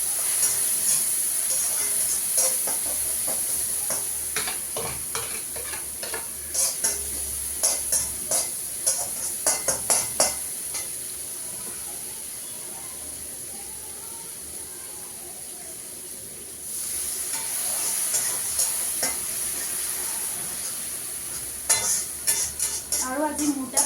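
Onions and spices sizzle steadily in a pan, with scraping stirs clattering in irregular bursts close by; the frying hiss stays constant throughout, briefly dipping before swelling again.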